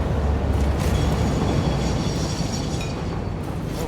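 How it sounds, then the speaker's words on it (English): A train rolls past in the factory-building game Satisfactory, a steady, loud, dense rumble with a faint metallic whine that holds without pause for a few seconds. "I'm about to get crushed by a train."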